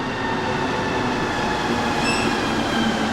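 A Mexico City metro train on rubber tires rumbles along steadily with a loud, continuous roar and a faint high squeal of wheels partway through.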